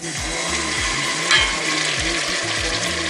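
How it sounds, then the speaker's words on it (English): Jollof rice stew frying in a pan: steady, loud frying sizzle with a constant crackling hiss throughout, plus low rhythmic scraping or stirring thumps underneath. "I'm going to tip this in and start frying it with everything else."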